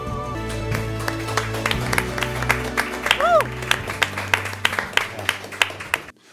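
An audience at the Schmuckstars jewellery award ceremony claps for host Christian Lerner, with bursts of applause mixed with loud music before the sound cuts off.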